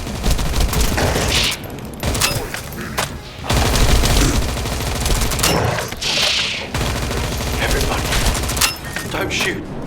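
Dense, loud bursts of rapid gunfire and crackling shots in the shooter game The First Descendant, near and continuous with brief gaps, while voices shout over the battle.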